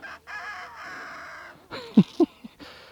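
Close chickens cluck and squawk, a drawn-out crowing call followed by a few sharp, short clucks.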